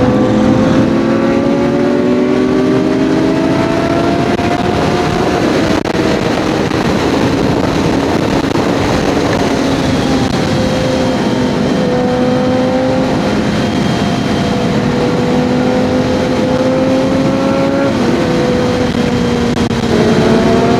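A KTM Super Duke motorcycle rides on the road to Ambur, its engine droning loud and close with rising and falling pitch as it accelerates and shifts gears, under steady wind rush, with no one talking.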